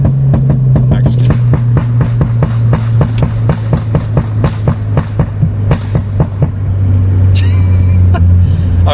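A 2016 Ford Fiesta ST hatchback on the move, its exhaust crackling and popping in a rapid, regular string of loud bangs over a low droning engine, close up, with a voice talking over part of it.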